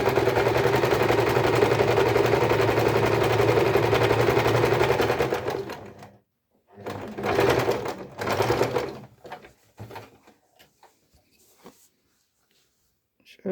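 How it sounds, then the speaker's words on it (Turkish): A sewing machine runs a zigzag seam on a pouch-style wallet, one long steady stretch of close, loud stitching followed by a few shorter bursts with pauses between them. "Zikzakla şuraları atmasın diye zikzak dikiş yapalım."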